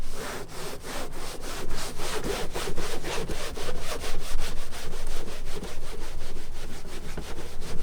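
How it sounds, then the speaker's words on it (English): Griot's Garage synthetic clay pad rubbed back and forth across a car hood's paint, a steady rhythmic scraping swish repeating about twice a second, close and loud, with no talking. "you can audibly hear it taking away the whatever it is on the hood and the paint"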